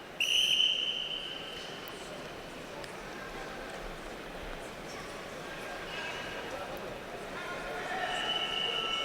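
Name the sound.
referee's whistle at wrestling match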